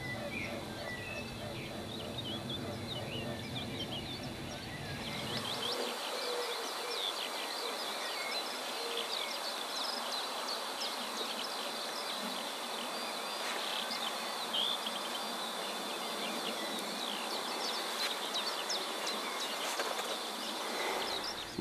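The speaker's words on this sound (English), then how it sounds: "You can now hear the skylark singing behind us on the Tump." Skylark song drifting from open ground on a hill, a continuous twittering warble heard faintly at a distance, with other bird chirps and insect buzz around it and speech over the first part.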